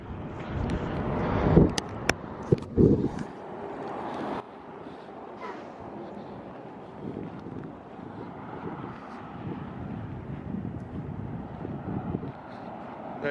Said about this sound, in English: Enjoy the wind.